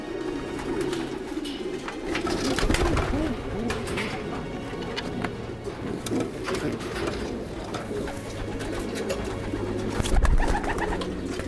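Long-distance homing pigeons cooing at a loft in Saudi Arabia, soft rolling coos overlapping continuously over a low background bustle, close and moderately loud.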